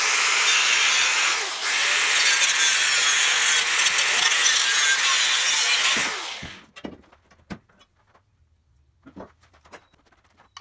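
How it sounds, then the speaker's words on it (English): A car bracket is cut off straight down with a saw, a loud continuous harsh buzzing that runs for several seconds and then stops, followed by scattered clanks and taps of metal. "all I'm going to do is chop it off straight down"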